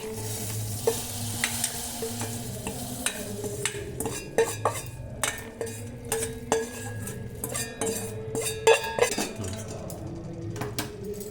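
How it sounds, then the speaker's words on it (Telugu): A spoon scrapes and clinks against a pot as tempering is stirred into mango and spinach dal, steady and close, with a soft sizzle and occasional sharp metallic taps and no talking. "సో పోపు వేసుకున్న తర్వాత ఒకసారి అంత కలిసిలా కలుపుకోండి"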